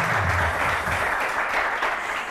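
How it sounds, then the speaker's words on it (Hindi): A studio audience at a weekend television show breaks into dense, steady applause that stays loud and even throughout. "नहीं खड़े होने की जरूरत वैसे ही तालियां बजा लूं"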